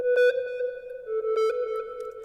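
A synth lead voice with an arpeggiator running, played in Logic for an afrobeat track, gives short tonal notes with bright harmonics in a quick repeating pattern, alone and clear.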